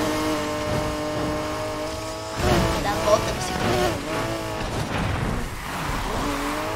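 A Ford GT engine drones at high revs in Need for Speed Heat as the car runs flat out, a steady loud tone that shifts pitch briefly, under someone talking.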